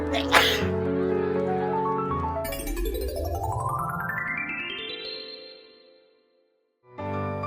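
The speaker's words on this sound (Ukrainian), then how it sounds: "коли раптом поруч хтось чихнув" A single sharp cartoon sneeze bursts out near the start, followed by a cartoonish rising whistle-like sweep, a brief silence, then another sound.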